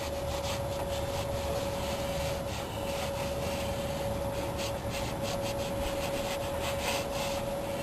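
A gasoline-soaked rag rubs steadily over a 1965 Ford Mustang GT's engine parts during a water pump replacement, a close, continuous scrubbing rasp with a faint steady hum beneath it.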